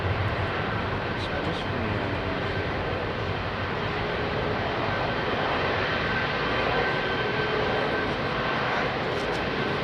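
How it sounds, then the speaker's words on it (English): An Emirates Airbus A380 airliner departing London Heathrow in the evening, a steady broad jet roar that holds loud and unbroken for the whole stretch, with no clear rise or fade. "Gary Boakes, Emirates 380 coming out"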